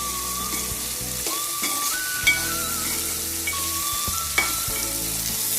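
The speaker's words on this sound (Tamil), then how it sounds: "வெங்காயம் வதங்கிடுச்சு" Small onions sautéing in a pan, a constant close sizzle with a few sharp clinks of a utensil stirring against the pan, no talking.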